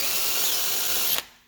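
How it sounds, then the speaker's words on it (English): A small drill bit grinds steadily into a hardened wheel lock on a Fiat 500 wheel, a dense, continuous whirring buzz up close that cuts off abruptly near the end and leaves a brief fading tail. "Continue to drill it with the smaller drill bit that we initially started off with"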